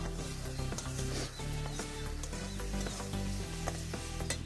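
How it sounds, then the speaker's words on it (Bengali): Chopped tomato and spices frying in a pan for chicken ghugni, a steady close sizzle with scraping and stirring from a utensil running throughout, without talk. "টমেটো কুচি, সব কিছু ভালোভাবে আমি কষে নিই।"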